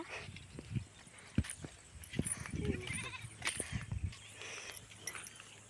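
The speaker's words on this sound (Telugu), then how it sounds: "ఇవ్వండి మా మేకలు" Goats bleat several times close by, short wavering calls scattered over a rustling outdoor background with occasional thumps.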